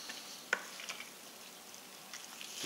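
Kale is stirred in a soup pot for Tuscan soup, making a faint, steady soft sizzle with one sharp spoon tap against the pot near the start and a few light scrapes afterward.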